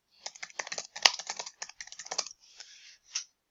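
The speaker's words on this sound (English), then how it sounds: "But you can also type the subject of your lesson into" Quick bursts of crisp key clicks from a computer keyboard as a lesson subject is typed into a search box, close and clear against silence, ending in a few louder separate taps.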